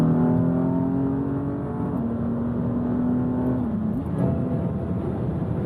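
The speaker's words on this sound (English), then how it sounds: "I'm not gonna do quite a kick down, but I am gonna push it here." A car with a faulty transmission flash is pushed hard, its engine droning loudly from inside the cabin before the pitch shifts around a downshift from seventh to fourth gear.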